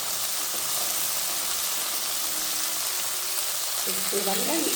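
Egg sizzling and frying in oil in a pan, a steady broadband hiss running throughout with a few scraping stirs near the end.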